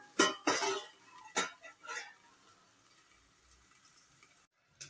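Masala okra (bhindi) cooking in a pan over a very low flame: a few loud metallic scrapes and clatters from stirring in the opening seconds, then a soft, steady sizzle that fades to near quiet, with a final brief knock.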